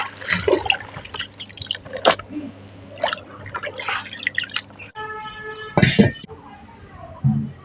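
Small bata fish are rinsed in water for cooking, with sloshing, splashing and dripping that come and go over several seconds, close by, along with a few knocks and handling noises.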